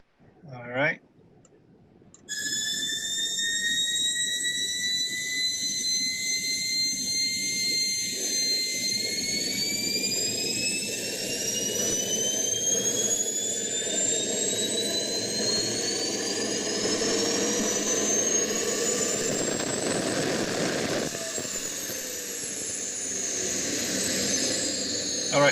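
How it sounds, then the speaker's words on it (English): A mini jet engine in a lab starts with a brief spin-up, then runs loud and steady with rising whining tones over a roaring rush that holds for most of the stretch. "this is the mini jet engine"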